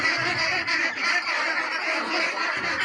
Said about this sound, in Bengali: অনিকা এই হাঁসগুলো তুমি দিনের জন্য আবার তৈরি করতেছো না